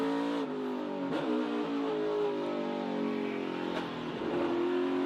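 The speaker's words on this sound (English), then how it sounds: "Look at that race car from here." A race car laps the track during practice and qualifying for the 2023 Pit Boss 250, its engine a continuous distant drone that rises and falls in pitch as it accelerates, with no talking.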